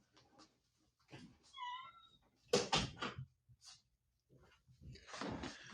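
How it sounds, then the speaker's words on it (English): A home office door swings shut with one solid thud midway, set among quieter room noises and a few short, high chirping sounds before and after. "I'm just going to shut the door to my office a second."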